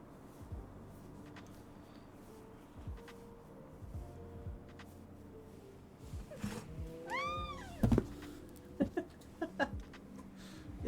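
An upset cat held in someone's arms gives a few short, close meows and yowls near the end, over quiet room noise and rustling.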